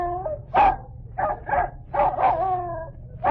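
An old 1940s radio recording of a dog barking and whimpering, giving several short yips and whines in uneven bursts that are close and clear against faint background hiss.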